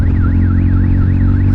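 A warbling electronic horn on a Hero Splendor Plus motorcycle sounds loud and close. Its tone sweeps steadily up and down in a regular cycle over a low engine rumble.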